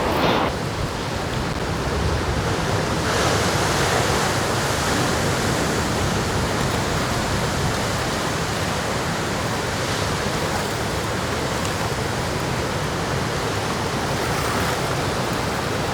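Big storm tide with heavy surf, a dense continuous roar of crashing water filling the whole stretch, loud and unbroken with no voices.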